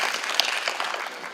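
A brief burst of audience clapping at a business forum session, steady and even across the short moment with no talk on top.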